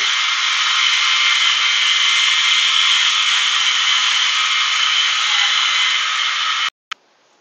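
A PRASKY 10-in-1 electric spin scrubber runs on a grate with a steady, high-pitched motor whine and brushing hiss, constant and close, then cuts off abruptly near the end with a brief click.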